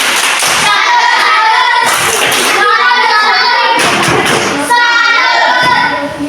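A classroom group performs a rhythmic salute clap in bursts, sharp synchronized hand claps separated by brief pauses, with children's voices chanting along between and under the claps.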